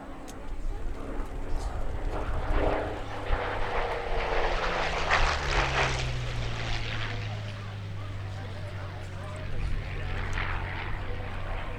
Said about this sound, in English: This is the P-40 Warhawk.